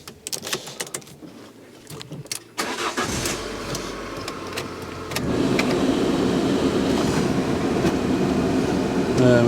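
A 2017 Fiat 500 Sport, a salvage repair car, cranks briefly, then its small engine catches and settles into a steady idle, close to the mic.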